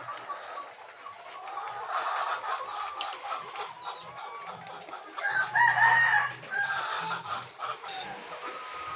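Chickens with colds cluck steadily nearby, and a rooster crows loudly partway through.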